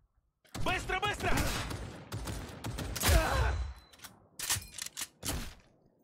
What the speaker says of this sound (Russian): Ну давай тогда в робота постреляем.